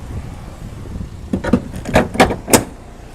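A detachable towbar is slotted into the rear bumper of a 2017 BMW X3 G01, making a series of sharp metallic clunks and clicks. The impacts come in a short irregular cluster, close and fairly loud, with no talking.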